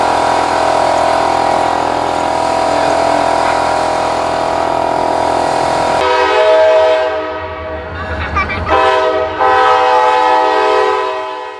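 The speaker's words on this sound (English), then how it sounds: "have the Wheeling and Lake Erie train pass by and entertain the kids" A Wheeling and Lake Erie freight train passes close by, its engine and wheels roaring steadily, and then the horn blasts loudly several times as the train rumbles on.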